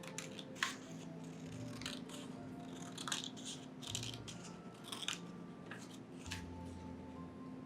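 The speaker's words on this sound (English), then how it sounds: "So if you can just gently cut those out, making sure that you keep the title with the picture." Scissors snip through paper pictures for a rosary book craft, with a series of close, crisp cuts at irregular intervals over soft handling noise and no talking.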